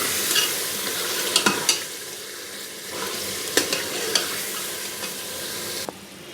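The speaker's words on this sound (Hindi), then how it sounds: "मैं इसको हाई फ्लेम पे ही थोड़ा सा भूनती हूँ।" Whole spices with fennel roast on high flame in a karahi, a steady soft sizzle broken by several sharp scrapes and clinks of a stirring spoon, close up and fairly quiet.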